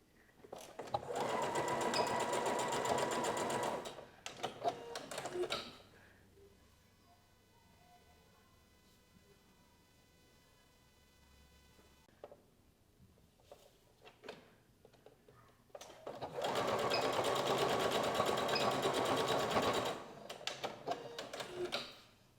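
Domestic sewing machine stitching straps onto a lace top, running in two loud close bursts separated by a quiet gap of faint handling noises.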